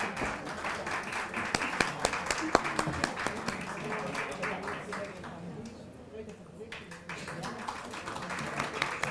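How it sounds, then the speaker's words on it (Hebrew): An audience at a school award ceremony in Tel Aviv gives an absorption team a round of applause. Dense clapping carries steadily for several seconds, dips briefly, then swells back, with loud individual claps standing out. "מחיאות כפיים לצוות הקליטה המיטבית מחוז תל אביב"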